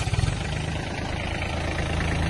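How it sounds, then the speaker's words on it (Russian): A small Iseki mini tractor engine starts with a few uneven chugs at the very start, then settles into a steady, constant low idling drone. "Запустим трактор."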